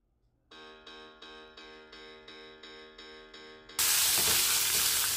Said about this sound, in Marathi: कढीपत्ता टाकते आणि हे चांगलं आपल्याला परतून घ्यायचे